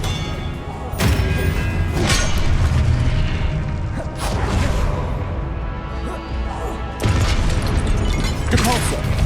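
Spell-casting effects in the Hogwarts Legacy video game, including the Expelliarmus disarming spell: loud booming, crashing blasts over a dense game soundscape, with bursts near 1, 4 and 7 seconds.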